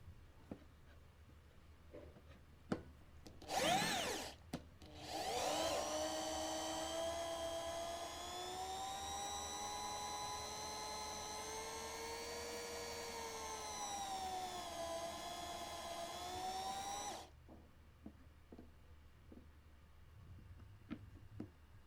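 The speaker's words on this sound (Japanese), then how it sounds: "電動ドリルは慣れてないと扱いにくいので慎重に行ってください。" A loud, steady high-pitched electric drill whine runs for about twelve seconds while making a one-string can guitar, rising and falling slightly in pitch, after a short burst before it.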